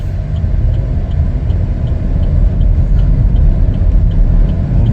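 A 2021 Chevrolet Blazer LT on a test drive, heard from inside the cabin as a loud, steady low road rumble and engine drone with a faint regular ticking, like a turn signal, above it.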